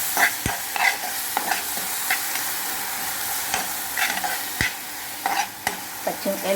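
Green chili paste and onions being stir-fried in a pan, with a steady sizzle and repeated sharp scrapes and clinks of a spatula against the pan.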